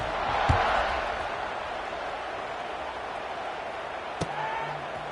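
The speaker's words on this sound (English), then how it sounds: "this crowd is buzzing after that last score" Stadium crowd in an NCAA college football video game, a steady broad roar and buzz throughout, with a couple of sharp thuds cutting through, no clear talk over it.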